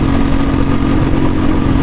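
A Royal Enfield Bullet 350 motorcycle engine idles loud and close, a steady low thumping rumble with no pauses and no voices.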